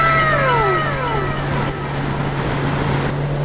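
A vehicle passes in traffic, its engine tone sweeping downward as it goes by over steady road and wind noise, recorded from a moving motorcycle.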